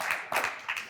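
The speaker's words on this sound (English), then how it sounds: "we actually gave a round of applause already, but another short one" Audience at a talk giving a short round of applause, a brief spatter of clapping hands in a few quick bursts.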